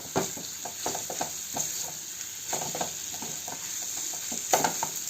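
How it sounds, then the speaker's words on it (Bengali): Potato mixed with spices sizzles in a pan while a utensil stirs it, producing a continuous hiss with irregular scraping taps. "আলুটা মশলার সাথে খুব ভালোভাবে মিশিয়ে নিয়েছি"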